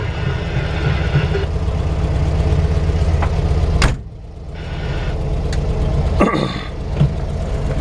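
A 1970 VW Bus engine idles steadily, with a low rumble. A brief clunk near the middle briefly cuts the sound before the engine noise returns, with a couple of small knocks.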